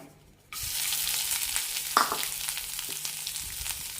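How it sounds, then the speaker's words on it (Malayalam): Grated coconut drops into a pan with half a teaspoon of hot oil and frying starts at once, a steady close hiss with faint stirring scrapes, used for a green gram chutney. "പാനിലേക്ക് അര ടീസ്പൂൺ എണ്ണ ഒഴിച്ചിട്ടുണ്ട് ഇതിലേക്ക് തേങ്ങ ഇടാം"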